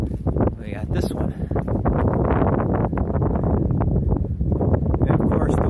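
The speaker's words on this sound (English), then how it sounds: "And of course the wind is blowing this way." Wind blowing hard outdoors near a house and driveway, a steady loud rushing roar with gusty buffeting against the microphone, continuous throughout.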